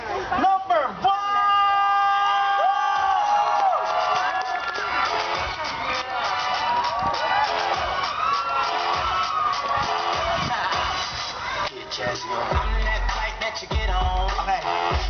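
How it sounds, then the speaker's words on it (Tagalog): A festival crowd at a Filipino community fiesta cheers and whoops loudly with clapping, shouts and babble rising and falling, while amplified music and voices carry underneath. "Lahat dapat magpapalakpakan na may kasamang hiyawan"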